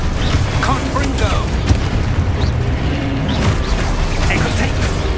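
A fiery Confringo spell in a Hogwarts video game goes off in a loud, dense burst of blasts and crackling mechanical effects, while a voice shouts spell names over the din.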